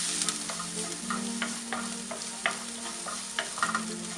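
Chopped green chillies sautéing in a pan for a mixed vegetable thoran of carrot, cabbage and beans, a constant near sizzle broken by repeated light spatula scrapes and taps in an irregular rhythm; no speech.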